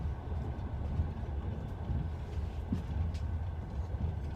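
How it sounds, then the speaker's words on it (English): A long train passes through the Siberian landscape with a steady, dense rolling rumble of wheels on rails, heard close and unbroken throughout. "Can't get away with other trains passing by."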